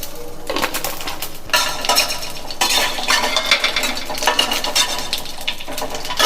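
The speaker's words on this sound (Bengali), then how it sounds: "এই তেলটার মধ্যে আমি একটা শুকনো লঙ্কা আর 1/2 চামচের মতো জিরে দিয়ে দিচ্ছি।" Dry red chilli and cumin seeds frying in hot oil in a wok, a loud close crackling sizzle broken by bursts of metallic clatter from a spoon against the pan, continuous throughout with no talk.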